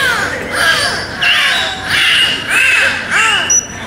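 Beluga whales at an aquarium show give whistles, chirps and rising squeals, loud and close, in several overlapping bursts with short pauses between them.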